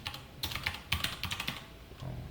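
Computer keyboard typing while writing JavaScript code, a quick irregular run of close clicks and key taps, with no talk.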